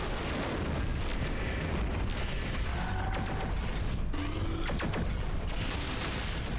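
Loud sustained rumbling blast and crackling debris from a destroyed mech exploding in MechWarrior 4, dense and continuous with metallic whines and mechanical clanks layered over a heavy low roar throughout.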